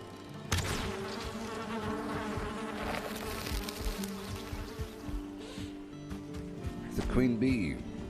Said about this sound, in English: Hear the bees?